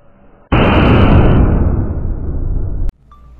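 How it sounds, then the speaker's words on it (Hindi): A Vinashak bullet bomb firecracker from last year's Diwali stock goes off in one loud, sharp blast that sustains a roaring burst for about two seconds, then cuts off abruptly. "भाई ये रहा विनाशक बुलेट बम, हल्क छपा हुआ है, 40 रुपए का है।"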